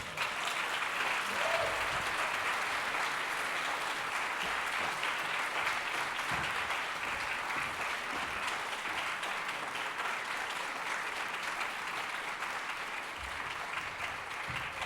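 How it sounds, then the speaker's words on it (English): Audience applause at the 2024 LA County Arts & Health event, a broad, even wash of many hands clapping sustained for around fifteen seconds, moderately distant and without speech. "give another round of applause"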